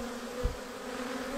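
Honey bees at an open hive with a feeder rim and inner cover, a steady close droning buzz with a soft thump partway through.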